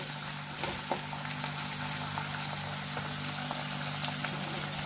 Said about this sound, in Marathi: शिमला मिरची आणि कांदा तेलामध्ये टाकलाय। आता याच्यामध्ये थोडंसं मीठ टाकू आणि याला तेलामध्ये शिजवून घेऊ।